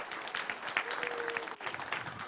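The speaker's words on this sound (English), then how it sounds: "can we give your grown-ups a big round of applause for bringing you out here today?" An audience at a library event claps continuously, a dense patter of hands holding steady throughout, with a brief dip partway.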